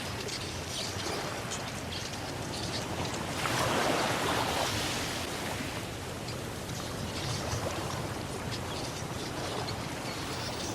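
Ocean surf rolls and breaks on a shore where crabs scramble to release their eggs, a steady broad wash of waves that swells louder midway, heard alone without any voices.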